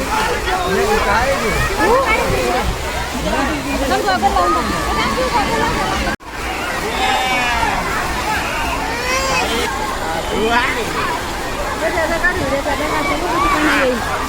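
Crowd chatter at a busy water park on a Saturday: dense, continuous babble of many voices mixed with splashing and rushing water, loud throughout, with a brief dropout near the middle.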